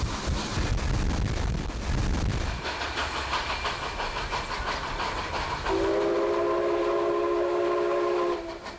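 A restored Mikado steam locomotive runs with a loud continuous rumble and hiss, then a sustained steam whistle blows for several seconds before cutting off near the end.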